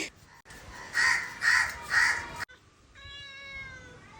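Three loud, harsh crow caws in quick succession, followed by a thinner drawn-out animal cry with clear tonal harmonics.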